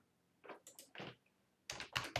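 Short bursts of keystrokes on a computer keyboard while a file name is entered, two clusters of quick, close clicks separated by a brief pause, heard alone at moderate loudness.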